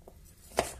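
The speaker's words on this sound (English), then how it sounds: "I'll just cut them" A knife chops through a bell pepper on a cutting board, with one faint tap followed by a single crisp, close cut.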